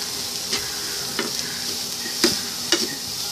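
Shredded cauliflower sautés in a pan over a low flame, a soft steady sizzle broken by a few sharp scrapes and stirs of the spoon against the pan, with no voices.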